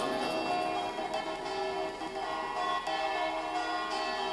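Church tower bells ring out in a melody from the bell tower of Coderno, a dense, continuous metallic peal with overlapping tones that fills the space at a steady, fairly loud level and has no talk over it.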